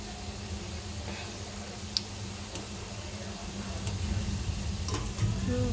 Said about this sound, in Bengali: আর এখানে ভাজা চলছে